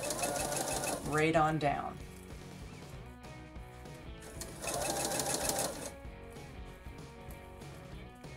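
A sewing machine stitches a narrow rolled hem in short bursts, its rapid whirring runs starting and stopping close by while someone talks over and between them.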